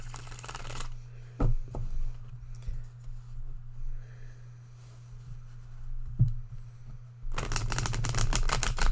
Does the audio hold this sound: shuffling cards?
yes